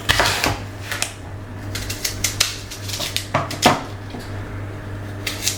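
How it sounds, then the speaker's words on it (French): A knife cuts apples into quarters and peels them for a crumble, producing close, irregular knife clicks and taps against a board and dish over a steady low hum. "Nous commençons par couper en 4 nos pommes et les éplucher."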